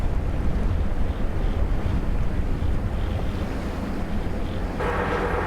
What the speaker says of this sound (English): You can see it's a bit blustery and a bit chilly outside